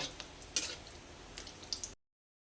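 Four dried red chillies frying in hot mustard oil in a pan, a soft continuous sizzle with a few stirring scrapes and clinks, faint and close, ending abruptly in silence.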